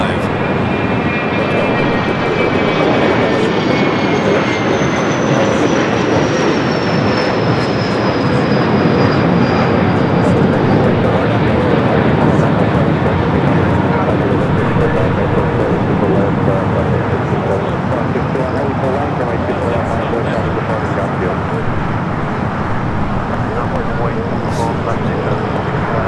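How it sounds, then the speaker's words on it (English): A United Boeing 787 Dreamliner arriving at LAX from London Heathrow makes a loud, continuous engine roar with a whining tone that slowly descends as it passes, with talk in the background. "We'll be followed by the United Dreamliner, so that stayed there on the north side."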